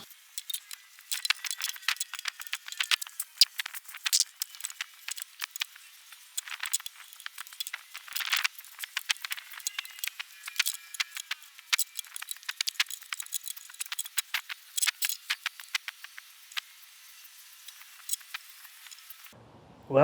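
Heat wrap being peeled off an exhaust header, giving irregular crinkly rustles and scratchy ticks scattered throughout, fairly close over near silence, with no voices.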